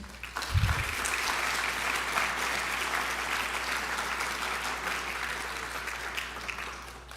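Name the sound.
audience applause at awards assembly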